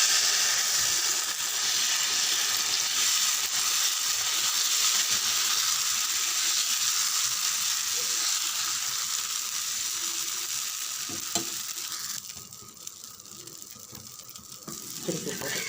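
Dosa batter sizzles on a hot pan with a close, continuous frying hiss and scattered crackles, easing somewhat toward the end.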